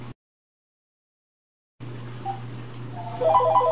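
A telephone dials out to call someone again: after a moment of silence, a low steady tone hums, then a quick run of short beeping dial tones plays close by near the end.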